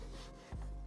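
A cloth soaked in Biobomb cleaner scrubs across car interior fabric, giving one short, close, soft rubbing swipe that is faint and continuous.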